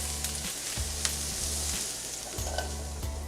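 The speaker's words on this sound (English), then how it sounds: "we're just about done sauteing these vegetables" Vegetables and onions sauteing in a pan give off a steady close sizzle and crackle, broken by a few rhythmic low stirring scrapes, with no talking.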